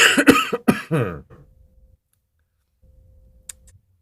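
Several sharp, close coughs in quick succession, then near silence with a single faint click.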